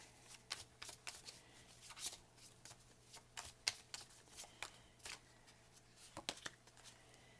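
Oracle cards being shuffled by hand, a quick run of crisp riffling flicks and soft taps coming in irregular bursts, close and fairly quiet, with no talk.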